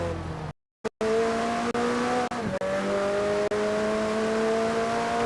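McLaren supercar engine in the Forza Horizon racing game, a loud close engine note climbing steadily through the gears after a brief dropout, with sharp gear-shift breaks and no talking.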